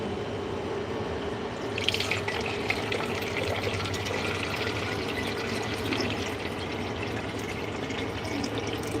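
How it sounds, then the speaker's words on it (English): Liquid fertilizer pouring into a garden watering container, a steady continuous splashing flow of water-like liquid, close and moderately loud, with no talking. "I had to take a moment of silence to pour my fertilizer"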